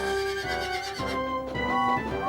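A circus horse lets out a bright, quavering whinny that rises and falls in pitch over a couple of seconds, heard alone at a moderate level.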